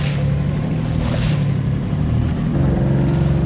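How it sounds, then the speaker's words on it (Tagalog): A boat's engine drones steadily as the hull moves over choppy water near Anawangin Island, Zambales, with strong waves splashing and wind rushing throughout. "Lakas ng alon, galaw ng bangka, eh."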